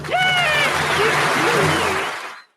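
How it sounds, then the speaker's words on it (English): Studio audience applause on The Muppet Show, a dense, loud, continuous clapping that holds steady for about two seconds before cutting off, with a small gulping, shuddering voice faintly audible underneath. "It's a little hard to hear with the applause"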